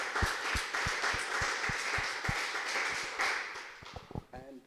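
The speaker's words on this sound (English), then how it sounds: "let's give them a round of applause" Audience at a symposium applauding its speakers: scattered, moderately loud individual claps that thin out toward the end, with a voice starting up in the final moment.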